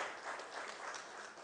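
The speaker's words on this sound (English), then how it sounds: "Let's give him a big round of applause." Audience at a national education conference giving a round of applause, a steady, faint wash of clapping from a distance with no voices over it.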